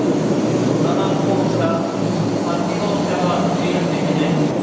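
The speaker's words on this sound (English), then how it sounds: "This is the 500 series bullet train, Kodama 854. Heading to Shin Osaka." A 500 series Shinkansen bullet train, Kodama 854 bound for Shin Osaka, gives a loud, steady rumble and rush in a station, with people's voices mixed over the noise.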